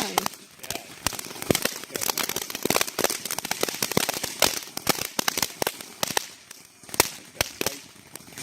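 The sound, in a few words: fireworks crackling and popping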